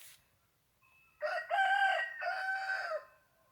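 A single Denizli rooster crows close by, one long drawn-out cock-a-doodle-doo rising and holding before trailing off, with no other sounds around it.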